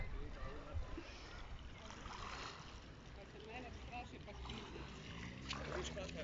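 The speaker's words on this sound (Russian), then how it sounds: "Шум моря." Soft, steady wash of sea waves rolling in on the Croatian coast in the evening, with breezy wind noise and faint voices in the distance.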